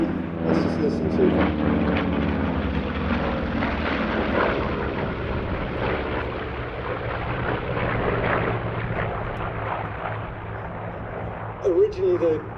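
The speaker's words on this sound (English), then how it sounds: "And here come the Corsairs from the left." Corsair fighter aircraft passing at an airshow, a loud sustained engine roar with broad rumble that swells and fades slowly over about twelve seconds, with wind buffeting and people talking under it.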